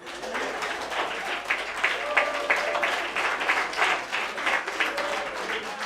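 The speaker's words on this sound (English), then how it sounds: "Can you clap hands for me?" An audience at a university debate event claps steadily for several seconds, a dense patter of many hands with some crowd murmur mixed in.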